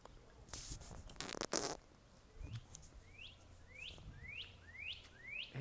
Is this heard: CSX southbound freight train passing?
no